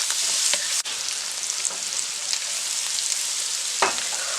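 Chicken fried rice with sugar and MSG sizzles steadily in a hot pan, a constant close hiss with a few sharp clinks and scrapes of stirring scattered across it, no talking.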